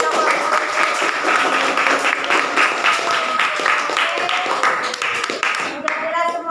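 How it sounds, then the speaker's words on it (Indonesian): A classroom of students applauds a presenting group, dense clapping held steady for several seconds with a few voices mixed in near the end. "tepuk tangan kelompok"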